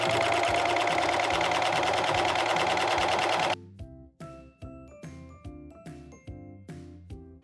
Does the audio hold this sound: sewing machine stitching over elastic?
yes